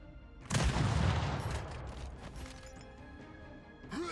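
A single loud explosion booms in R.I.P.: Reincarnation Insurance Program, a shooter video game. The blast hits sharply near the start and then rumbles and crackles as it fades out.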